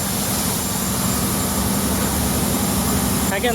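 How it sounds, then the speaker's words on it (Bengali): A loud, constant engine drone fills the engine room of a passenger launch at Sadarghat terminal, Dhaka, a steady mechanical roar with a low hum, and a voice briefly cuts in at the end. "ভিতরে সম্ভবত ইঞ্জিন রুম এটা"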